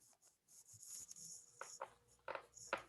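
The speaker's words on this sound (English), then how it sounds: "I just noticed I had my mic on and I was typing" Typing on a computer keyboard close to an open microphone during an online meeting, a quick run of light clicks and taps with a few sharper keystroke bursts near the end, alone with no talk.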